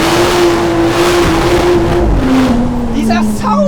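A sports car weighing under 1800 kg accelerates hard, its engine holding a loud, steady drone up close. Excited talking runs over the engine near the end.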